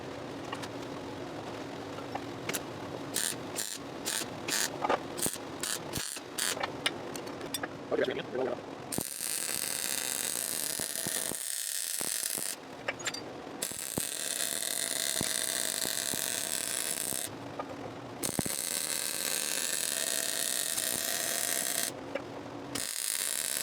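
Steel being welded in a saw-shop storage build: after a few seconds of scattered clicks and clatter, a steady loud crackling hiss of the arc runs in long bursts with short pauses between them.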